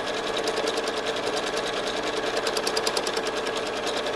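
A sewing machine stitches a spiral pattern on a quilt in a continuous, fast, even mechanical chatter that holds steady throughout, close up with no voices.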